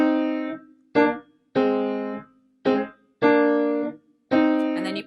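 Piano chords played with only the thumb and inner notes, six detached chords struck in a loose, uneven rhythm, each ringing briefly before the next, clear and close with no talking.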